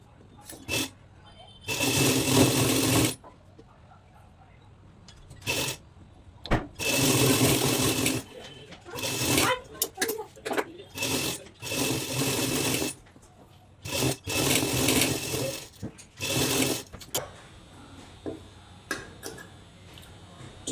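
A sewing machine stitches the lining onto the front part of a blouse. It runs in repeated short bursts of close, buzzing stitching separated by quieter pauses with faint handling of the cloth.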